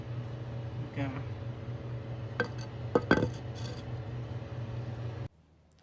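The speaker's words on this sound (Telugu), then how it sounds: "ఇప్పుడు బిర్యానీని ఇంకో గిన్నెలకు ట్రాన్స్ఫర్ చేసిన" Prawn and tamarind-leaf biryani is moved from a clay pot into another vessel, making a few close metallic clinks and scrapes against a steady hum. A person talks through part of it.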